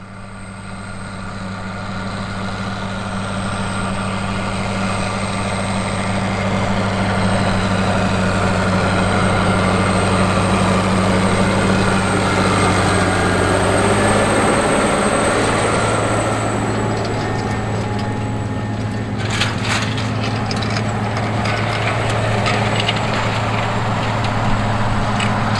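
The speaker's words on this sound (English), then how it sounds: "these big Fendt and Challenger tractors manufactured by AGCO working on spring tillage" A Fendt 1162 Vario MT tractor working a field in spring tillage gives a steady, loud, droning engine rumble with a deep low hum that rises and shifts midway as the load changes, with no voices.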